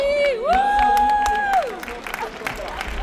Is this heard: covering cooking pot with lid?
no